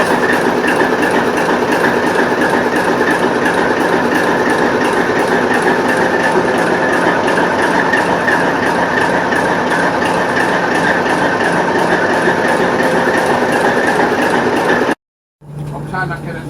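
A TEP70 diesel locomotive rumbles steadily during shunting moves, a loud continuous engine drone with faint rail clatter, cutting off abruptly near the end before a short burst of sound resumes.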